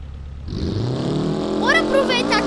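Car accelerating hard in the BeamNG.drive simulator, engine revving up from idle to a rising, loud whine within a couple of seconds, with a voice speaking over the top near the end.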